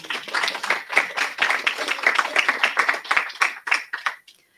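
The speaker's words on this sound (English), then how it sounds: "Let's clap for our management." Graduation guests of an entrepreneurship programme clap for the management in a burst of distinct, close handclaps, irregular and lively, fading out near the end.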